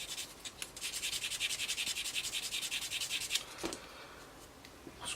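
A normal sanding stick rubs a sprue mark off a plastic part of a Tamiya 1/32 F-16C/J model kit. Quiet, close, rhythmic back-and-forth scratchy strokes keep up for several seconds, then trail off.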